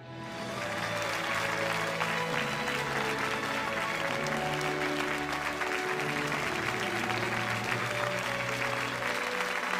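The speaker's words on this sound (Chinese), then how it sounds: "掌声有请。" A television studio audience applauds to welcome a 90-year-old veteran bomber pilot, the clapping rising within the first second into sustained, even applause. A steady low musical tone runs beneath it throughout.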